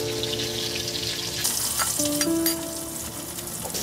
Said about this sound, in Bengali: মরিচ কুচিগুলোকে এখন ভেজে নিচ্ছি